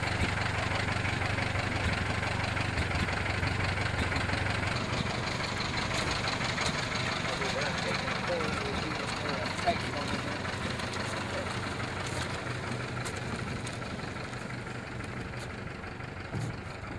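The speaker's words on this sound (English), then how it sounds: "The marine engine." A 1938 Elto Midget marine outboard engine runs at a steady idle, a continuous buzzing drone with a low hum underneath, fairly close, as people talk over it.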